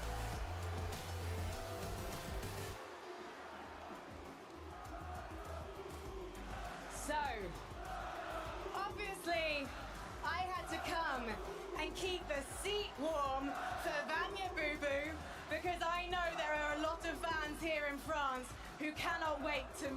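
A large home crowd at a Fortnite Global Championship event in Leon, loud sustained cheering and whooping from a packed arena, with an announcer's voice talking over it throughout.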